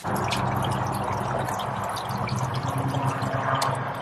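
Water runs through the plumbing lines of an RV being sanitized with chlorinated water, a steady soft rushing hiss with faint drips, continuous and fairly quiet.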